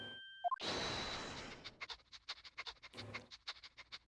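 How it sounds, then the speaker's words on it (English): Dog in the Great Ace Attorney 2 video game sniffing, a short chime followed by a burst of noise and then a quick run of rhythmic sniffs and panting puffs, close and clear with no one speaking. "Chief Inspector said woof to that, Odo."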